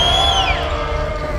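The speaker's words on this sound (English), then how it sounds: "Like on the bench, just like horns going, people yelling." Dense crowd of thousands yelling and cheering at a men's volleyball match, with horns blowing; a loud, continuous roar with a rising whistle-like tone through the first half.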